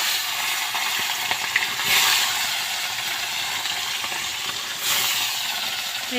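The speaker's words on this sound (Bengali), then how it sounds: "তো দেখো তেলটা ভালো গরম হয়ে গেছে, এবার মাছগুলো আমি ভেজে নেব।" Fish sizzling in hot oil in a wok during home cooking, a steady broadband crackle holding throughout with a few brief louder bursts, no voices.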